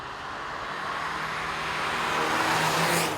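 Citroen DS3 Racing road-going hot hatch with a tuned 1.6 turbo engine giving 207 horsepower, a steady engine drone rising gradually in pitch and loudness as it accelerates, with road noise and no talk.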